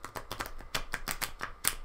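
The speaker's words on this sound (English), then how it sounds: "And I can shuffle my cards that way." Tarot cards shuffled by hand, a quick run of crisp, papery riffling clicks in an irregular rhythm, close and fairly quiet with no talk.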